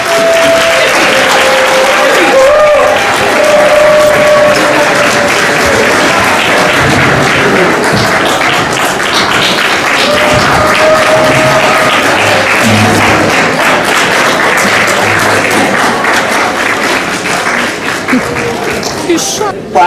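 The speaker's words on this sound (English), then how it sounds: "Let's hear it for my cousin, Sharon Goodrich Smith." An audience at a gala applauds loudly and steadily for the whole stretch, with cheers and a few voices rising out of the dense clapping.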